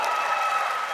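An audience at a Samsung Unpacked stage event applauds in a steady, even wash of many hands clapping, heard briefly and evenly loud.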